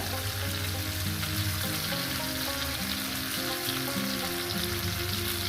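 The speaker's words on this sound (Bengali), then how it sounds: "মুসুর ডালটা দিয়ে দিলাম এবার মিনিমাম এক মিনিট একটু ভেজে নেবো" Potato and masoor dal fry in hot oil in a pan with a dense, even crackling sizzle. It runs unbroken and close, with no speech.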